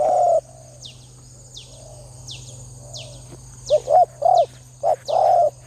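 Soft, low spotted dove coos repeat through the clip, then grow louder and closer in a run of several rhythmic hooting phrases near the end.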